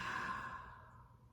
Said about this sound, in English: and a slow, full breath out.